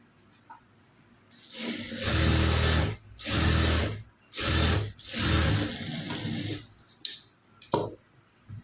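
A sewing machine stitches a blouse seam in several close bursts of rapid mechanical whirring separated by brief pauses, ending with a few short clicks of the machine, no voices.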